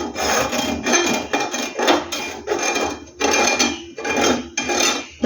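A knife scrapes along the edges of a nonstick dosa tawa in repeated rough rasping strokes, about six of them in steady rhythm, close and loud.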